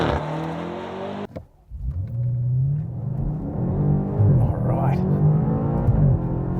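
A 2020 BMW M8 Competition in comfort mode launches from a standstill, with a brief blip, then a sustained rising engine roar climbing through the gears, loud and close, with voices audible over it.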